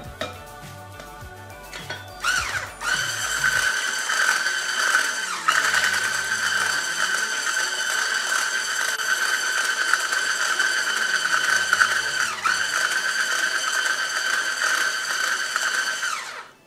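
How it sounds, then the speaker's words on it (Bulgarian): An electric hand mixer whirs steadily in a bowl of cream cheese for cheesecake, starting with a few short bursts before settling into a continuous, fairly loud motor drone with periodic scraping sweeps. "започваме да ги бъркаме с миксер"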